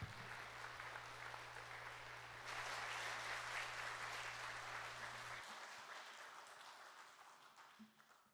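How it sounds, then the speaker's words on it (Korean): A church congregation applauds in a sustained, dense burst of clapping that swells partway through and then gradually thins out, with a low steady hum beneath the first half. "다시 한번 큰 박수 보내주시기 바랍니다"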